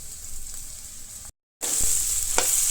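A chana paneer curry base sizzles loudly as it is sautéed and stirred in a pan, a close, steady frying hiss that cuts out briefly, then returns stronger with a few scraping stirs.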